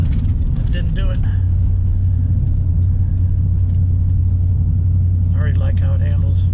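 A 2016 Chevy Silverado pickup truck drives over a washboard dirt road, with a steady low engine and road rumble running throughout as someone talks over it.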